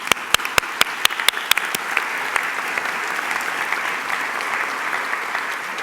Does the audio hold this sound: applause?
yes